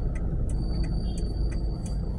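HM Transport bus backing up to park on a busy street, steady low engine rumble with a high beeping tone and repeated short bright clicks or chirps pulsing over it.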